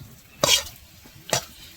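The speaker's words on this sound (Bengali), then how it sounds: "ভালো করে এখন নাড়িয়ে ছেড়ে নিতে হবে যাতে উপরে চিনিগুলো নিচে চলে যায় আর গলে যেতে পারে" Carrot halwa being stirred in a pan as the sugar melts and fries, giving two short scraping, sizzling strokes about a second apart with a faint background hiss between them.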